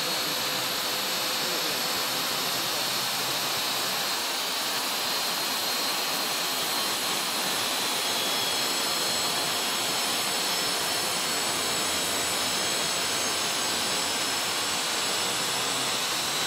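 A mason's brick cutting machine runs at full speed while slicing a brick, giving a loud, continuous high-pitched whine and hiss that holds steady throughout with no talking.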